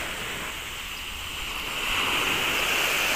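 Mediterranean Sea waves wash steadily and softly near the shore, a continuous hiss of surf that grows slightly fuller partway through, with no one speaking.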